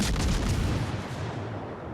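Naval ship guns fire in the game World of Warships Legends, a loud dense rumbling blast at the start that slowly fades into a low roar.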